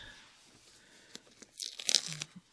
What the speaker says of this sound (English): So now I'm going to go ahead and take the tape off.